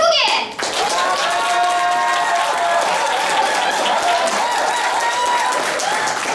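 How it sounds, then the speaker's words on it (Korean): A crowd claps warmly at the opening of the 7th Challenge Korean Awards ceremony: loud, steady, continuous clapping that fills the room, mixed with tonal background sound. "뜨거운 박수로 다시 한번 시작을 알릴게요"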